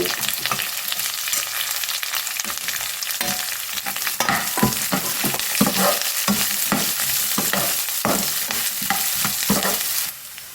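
Onion and cashews frying in a pan for idli upma, a steady sizzle broken by repeated scraping stirs of the spatula, fairly close and without any talk.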